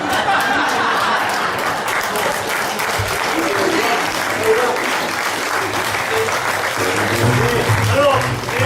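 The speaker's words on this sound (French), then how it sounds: "Oui, applaudissez." An audience applauds steadily at the end of a film screening, a dense continuous wash of clapping with scattered voices and laughter mixed in, lasting throughout.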